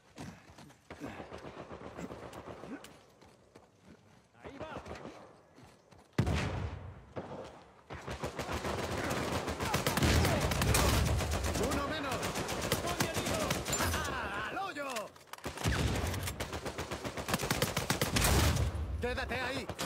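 Multiplayer gunfire in Uncharted 4: scattered shots at first, then sustained rapid automatic fire and bursts over most of the stretch, briefly pausing before resuming, with voices calling out amid the shooting.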